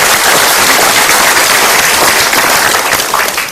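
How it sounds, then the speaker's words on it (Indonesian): A large studio audience at a motivational talk show bursts into loud, dense applause that holds strong and then begins to taper near the end. "Kita berikan tepuk tangan."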